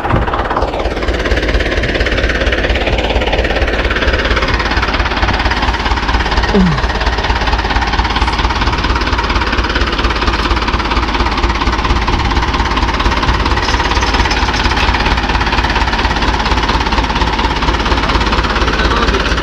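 An engine fired by its starter runs loudly and continuously with a hard, knocking, jackhammer-like chug, close by and steady throughout.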